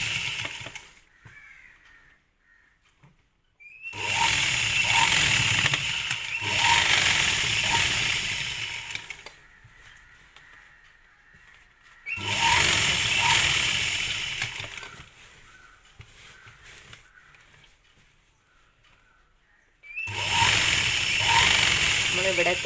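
A sewing machine runs in long loud bursts, stitching the folded slit of a lining kurti, with quiet gaps between runs where a voice explains the work.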